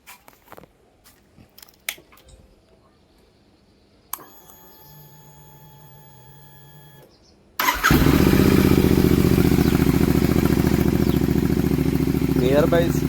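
A Royal Enfield GT650 motorcycle fitted with Red Rooster DP Killers exhausts starts after some clicks and a whirring starter, then settles into a loud, steady, deep idle close by.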